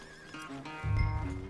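A horse whinnies in the Red Dead Redemption 2 video game on a ranch, a wavering tonal call followed by a heavier low rumble of hooves or movement, close and moderately loud.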